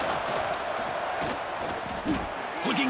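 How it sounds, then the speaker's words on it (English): A football stadium crowd roars in a broad, distant wash of cheering, steady and moderately loud, with a commentator's voice faintly mixed in. "Listen to the crowd energy here in the early going."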